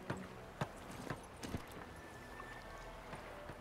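A horse's hooves clip-clop in The Witcher 3 as it sets off, with soft irregular hoofbeats, fairly faint and unhurried over quiet ambient game sound.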